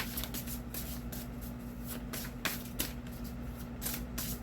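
Soft papery shuffling of cards, a steady rustle with a few sharper riffles, close and quiet over a low electrical hum.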